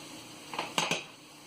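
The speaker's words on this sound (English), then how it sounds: "So now we have to keep stirring this so it doesn't burn." A utensil stirs a pineapple barfi mixture with grated koya in a pan, producing a few quick scraping knocks in the middle of an otherwise quiet stretch.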